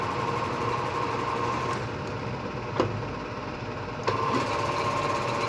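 A 13" x 30" Cincinnati engine lathe's motor runs steadily with a continuous mechanical whir and hum, broken by two brief clicks or knocks.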